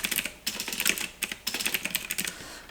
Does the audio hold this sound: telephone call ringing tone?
no